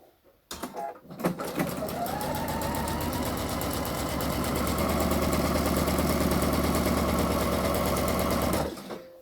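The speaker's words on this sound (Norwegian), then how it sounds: "Da vil jeg sy en søm langs kanten hele veien rundt for å holde stoffet på plass." A sewing machine runs a long continuous seam along a fabric edge for a blouse, a fast even mechanical whir that starts after a brief click and stops near the end, close and steady with no talk.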